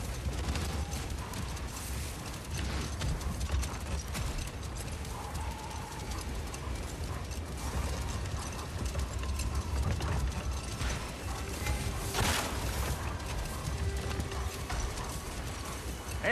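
Domesticated Gulon pulling a sled in God of War Ragnarok, with steady trudging hoof-like clops, creaking harness and rattling sled mechanisms over a constant wind-blown outdoor bed, and an occasional animal snort.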